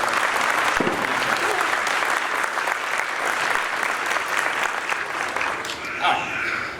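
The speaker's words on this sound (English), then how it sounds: "Another round of applause for the Ohio State Honor Band." Audience applause for the Ohio State Honor Band at a Wilson Middle School spring band concert, a loud, dense clapping from a crowd that holds steady throughout and fades slightly at the end.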